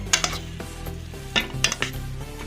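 Aloo methi, potato with fenugreek, served from a pan: a metal spoon scrapes and clinks against the pan in irregular clusters of sharp, close, fairly quiet hits, with no talking.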